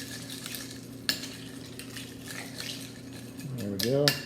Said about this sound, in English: I'm going to stir this up a little bit here.